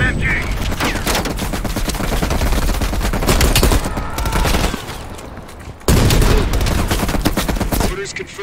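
Dense, continuous machine-gun fire in the game Call of Duty: Black Ops Cold War, loud rapid bursts rattling on for several seconds, with a brief lull midway before the firing resumes at full force.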